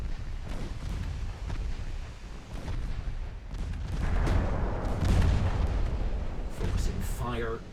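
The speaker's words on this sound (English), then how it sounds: "Focusing gunfire on this closest one." Naval artillery fire in the Ultimate Admiral Dreadnoughts warship game, a steady rumble of repeated cannon booms and explosions that swells louder midway, with brief higher tones near the end.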